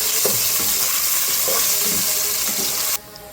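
Chopped onion frying in oil with cumin, garlic and bay leaf, a loud steady hiss with occasional spatters that cuts out abruptly near the end.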